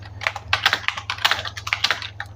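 Quick, fairly loud typing on a computer keyboard while entering text into a to-do list program, a rapid uneven run of crisp clicks heard alone over a low background hum.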